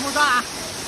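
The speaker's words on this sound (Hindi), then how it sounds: "ये देख सकते हैं मेरे पीछे वाटरफॉल।" A hidden waterfall in Assam gives a steady broadband rush beneath a brief spoken voice, heard outdoors at close range.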